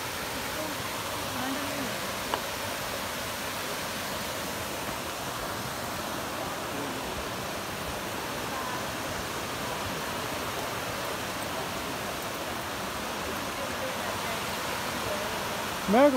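Bushkill Falls in the Pocono Mountains of Pennsylvania pours in a steady, broad rush of falling water, continuous and fairly loud throughout.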